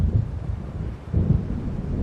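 Low, rumbling thunder from an approaching storm in the video game Alan Wake Remastered, rolling in two swells over a steady windy background.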